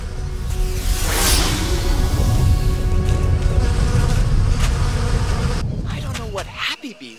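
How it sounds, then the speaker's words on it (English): Cartoon bees buzz in a steady, loud swarm drone, unsettled after an earthquake, with voices talking over it before the sound tapers off near the end. "Bees don't like earthquakes, they might be cranky."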